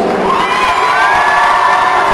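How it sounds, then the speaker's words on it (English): Ice hockey crowd at a high school championship trophy ceremony roars loudly, with sustained cheering, high shouts and whoops filling the rink continuously. "Zach Shenorowski getting a loud cheer from fans."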